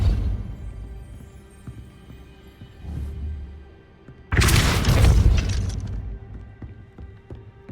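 A Depulso spell from the Hogwarts Legacy video game lets off a loud booming blast that bursts suddenly and rumbles on for a couple of seconds, preceded by quieter thuds.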